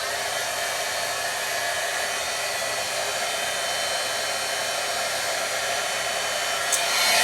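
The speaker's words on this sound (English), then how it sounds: "I'm going to get my heat gun back out again." Close up, a heat gun blows hot air in a steady, loud, even whoosh with no breaks, and one small knock comes near the end.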